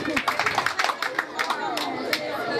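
Audience clapping at a school excellence award ceremony in Loum, heard as a rapid patter of claps running under a voice talking over it.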